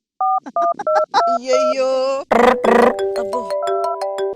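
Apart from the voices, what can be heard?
telephone dialing and ringing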